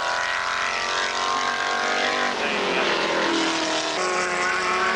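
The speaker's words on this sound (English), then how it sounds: "Pete Edwards again in the very throaty sounding Ford Escort." A throaty Ford Escort race car engine roaring past at a TVR SEAC motorsport meeting, a sustained loud rasping drone that shifts pitch as it passes and fades.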